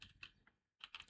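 Quick, light keystrokes on a computer keyboard while an email address is entered, a short burst of clicks, a pause, then more taps, close and quiet.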